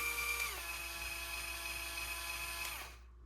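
A YEYES cordless electric grill brush motor whines steadily at close range, stepping down in pitch as the speed changes, holding for a couple of seconds, then dropping again before cutting off.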